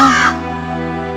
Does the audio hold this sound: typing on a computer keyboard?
no